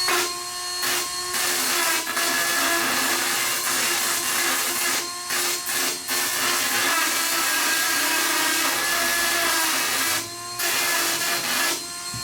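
An angle grinder flattening raised welds on a car body panel, producing a loud, sustained abrasive whine with a few brief cut-outs as the tool lifts off the metal, close and without talking.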